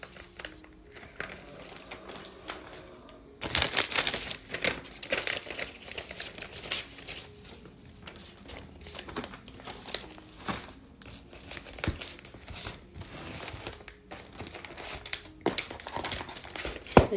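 Scissors cut through pink power mesh fabric along the folds, a stream of soft irregular snips and crinkly rustling at close range with no talk.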